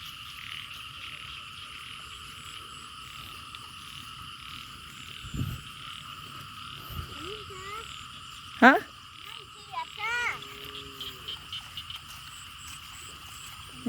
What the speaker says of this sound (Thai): เขียดก็ตัวใหญ่ใช่ไหม